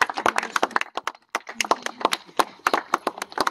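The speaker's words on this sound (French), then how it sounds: "Veuillons accompagner ce dévoilement par des applaudissements, s'il vous plaît." Mourners clapping at a family tombstone unveiling ceremony: a small group of hands striking in quick, uneven bursts, close and distinct, with brief pauses between flurries.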